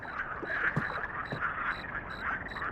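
Frogs croak repeatedly in a video game forest, a continuous chorus of close, rhythmic croaks with occasional sharper calls and no talking.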